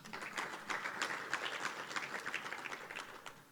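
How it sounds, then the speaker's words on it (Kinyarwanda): A church audience claps together in a brief burst of applause, many hands patting quickly and unevenly, heard from some distance and fairly faint. "nimwikomere n'amashyi"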